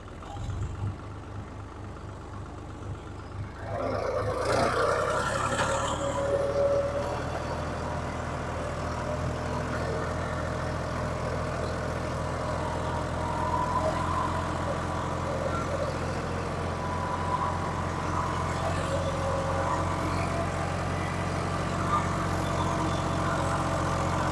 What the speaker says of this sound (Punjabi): ਆਪਾਂ ਪਹਿਲਾਂ ਲੋ ਲਾ ਲਿਆ ਟਰੈਕਟਰ ਦਾ, ਸਾਰੇ ਗੇਅਰ ਵਿੱਚ ਚੈੱਕ ਕਰਦਾ ਜੀ